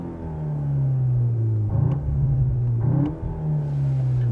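A 2021 VW Arteon R Shooting Brake, 320 hp, burbles and rumbles at around 4000 rpm, a loud steady engine drone with two brief rougher bursts midway, heard from inside the car.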